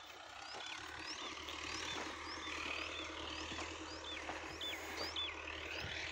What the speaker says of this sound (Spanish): Está el tractor.